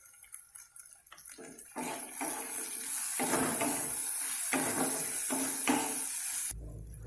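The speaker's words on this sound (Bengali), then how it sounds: "সামান্য জল দিয়ে মশলাটা কষে নিচ্ছি।" A little water goes into ground turmeric, cumin, coriander and chilli powder frying in a pan, setting off a loud, close sizzling hiss that swells and crackles for several seconds before stopping abruptly.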